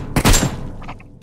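Gunfire from bots in a mobile battle royale game: a sharp, loud burst of shots up front, followed by a few fainter distant pops trailing off within about a second.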